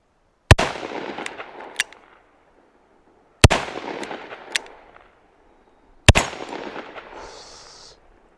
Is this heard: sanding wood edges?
no